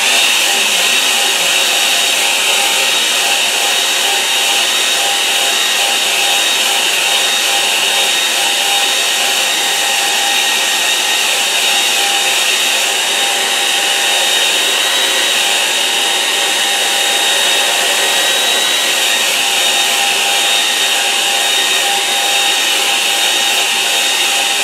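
Hair dryer drying a watercolour painting, a loud constant blowing whir with a steady high-pitched motor whine, running unbroken throughout.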